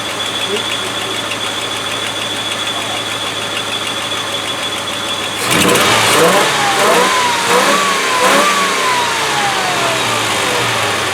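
A Land Rover 110 with a V8 engine idles and is then blipped from inside, the revs climbing in several sharp, loud bursts up close, with a voice speaking briefly over the engine.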